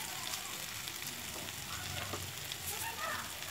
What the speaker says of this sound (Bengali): ভালোভাবে মশলার সঙ্গে আলু ফুলকপি ভালোভাবে আরও 2 থেকে 3 মিনিট কষিয়ে নেবো হাই টু মিডিয়াম ফ্লেমে